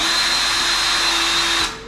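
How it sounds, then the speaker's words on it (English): Power drill boring drain holes for a shower in a tiny house under construction, a loud continuous high whine that runs steadily and then winds down at the end. "I gotta start drilling these shower drains"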